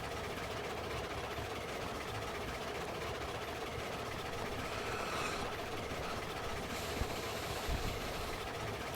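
A steam locomotive hauls its train up a grade in the game Railroads Online, producing a dense, steady mechanical rumble and hiss with faint clanks, continuous and fairly even, with a brief brighter hiss partway through.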